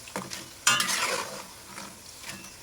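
Battered potatoes frying in hot oil, with a sudden burst of bubbling sizzle as they are stirred and scraped, then a steady softer crackle continuing alone.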